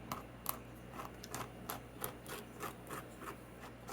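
A palette knife scrapes embellishment paste across a stencil in a series of short, close rubbing strokes, each a soft dry rasp repeated at an even rhythm with no talking.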